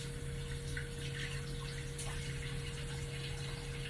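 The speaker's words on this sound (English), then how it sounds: "Washing my hands, you guys." Tap water runs steadily while hands are washed at a kitchen sink during cooking, a constant close rushing stream without pause and no talking.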